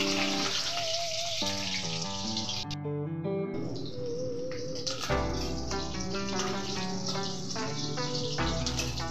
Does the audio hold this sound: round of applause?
no